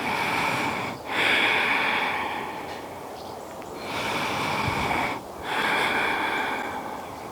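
Slow, deep breathing held through a yoga pose, long drawn-out airy inhales and exhales in a steady rhythm, close and fairly loud, with no talk.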